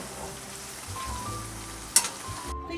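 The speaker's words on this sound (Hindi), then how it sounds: "मैं फिनिश करती हूँ फ्राई करना और फिर आपको दिखाती हूँ सारा।" Pantras, stuffed crepes, fry in hot oil until brown and crisp, a soft continuous sizzle with a brief sharp clatter near the end before cutting off.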